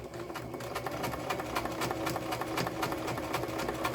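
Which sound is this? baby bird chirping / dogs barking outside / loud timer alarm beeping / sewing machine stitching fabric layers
sewing machine stitching fabric layers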